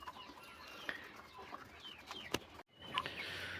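Black chickens cluck and chirp intermittently at a moderate distance, with scattered short calls over a quiet farmyard background in Andijan, Uzbekistan; no talking.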